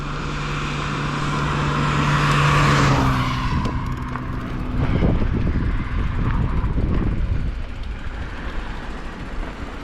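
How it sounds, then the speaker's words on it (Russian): Car approaching and driving past at night on a road in Crimea, rising to a loud broadband rush with tire and engine noise, then fading under wind noise. "Машина!"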